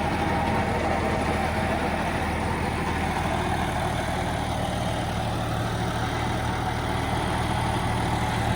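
A Sonalika 35 tractor pulling an 8-foot super seeder through field soil gives a continuous, loud, low engine drone with steady labouring rumble and no voices.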